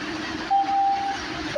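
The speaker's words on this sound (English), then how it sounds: "the next echelon train is now approaching" An MBTA Red Line subway train arrives at a station platform: a low, steady rumble fills the space while a thin, sustained tone holds for about half a second before fading, with no voices present.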